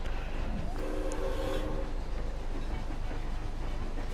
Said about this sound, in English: I think I'll show you guys the steam train here.